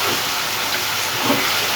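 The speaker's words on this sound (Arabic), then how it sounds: "هقلب بقى كويس قوي في المرحله دي عشان الثوم انا مش عايزه الثوم يتحرق" Minced garlic sizzling and frying in butter while being stirred steadily, a continuous close hiss filling the pan with no speech over it.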